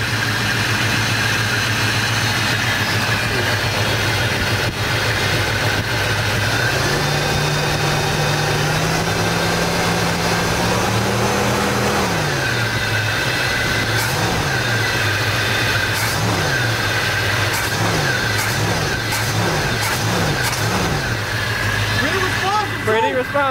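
A Chevy C10 engine, started after sitting seven years and fitted with a new Edelbrock AVS2 carburetor, idles loudly and steadily, then rises in held revs and finishes with a run of quick, repeated throttle blips, all close by.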